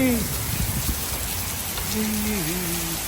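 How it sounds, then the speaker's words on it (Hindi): Heavy rain pouring down steadily outdoors in America, a dense constant hiss that fills the whole stretch, with a faint tonal whine drifting over it near the end. "ये देखिए भाई, कितनी हेवी रेन हो रही है, बहुत तेज़ बारिश हो चुकी है इस वक्त तो भाई।"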